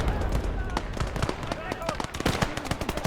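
Gunfire in a World War II strategy video game: dense rapid bursts of machine-gun fire and scattered shots crackle continuously and loudly, with a voice talking underneath.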